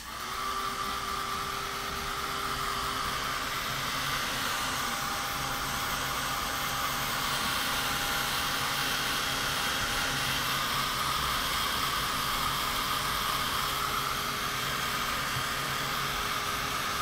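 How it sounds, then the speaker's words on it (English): A heat gun blows hot air over reactive tissue laid on a paper craft card, giving a continuous, close whooshing roar that holds steady for the whole stretch with no speech. "dry it with your heat gun and until the tissue lifts off"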